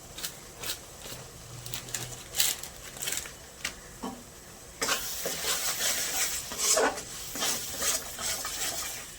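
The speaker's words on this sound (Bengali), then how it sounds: "এবার ভালো করে কষতে দেব।" Spices such as turmeric and Kashmiri chilli powder stirred and fried in a pan for kosha chicken, with soft scraping strokes of the spoon against the pan at irregular intervals and a steadier, louder sizzle in the second half.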